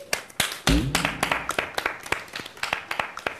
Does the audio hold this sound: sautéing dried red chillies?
no